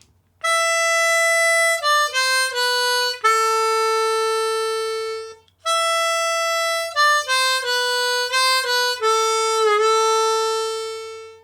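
A G diatonic harmonica plays the opening section of a song, bright reedy notes in two repeated phrases of steps and held tones, close, clean and solo.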